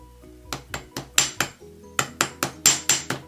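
A ball peen hammer textures wire on a hammering block: two bursts of crisp, ringing metallic taps, about five then six evenly spaced strikes, close and clear.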